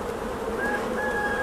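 Honeybees buzzing during the transfer of a nucleus colony into a full hive, a dense, steady hum of many bees close by with a few higher whines rising above it.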